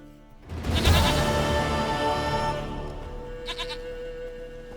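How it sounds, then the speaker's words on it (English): In The Witcher 3: Wild Hunt, a goat gives a loud, wavering bleat close by that trails off over a couple of seconds, followed by a faint, shorter bleat. "Goat of mine, dearest, sweetest goat."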